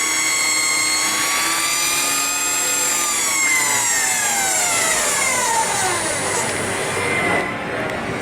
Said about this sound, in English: So there you have it, the electric Harley Davidson.